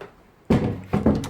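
Plywood sheet dropped loosely into a wooden cabin frame: a sharp woody thunk after a quiet moment, then two more clattering knocks as it settles, close and fairly loud.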